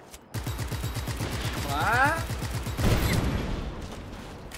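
Rapid automatic gunfire from Just Cause 3 rattles in a steady stream of close shots, with a brief burst of louder blasts near the end; someone speaks briefly over it.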